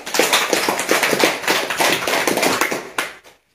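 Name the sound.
audience clapping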